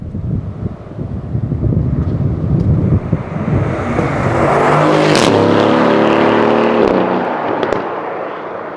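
An Aston Martin Vantage sports car revs and accelerates past on country roads in windy outdoor air, with a rising tonal whine and a few sharp pops over steady rumble.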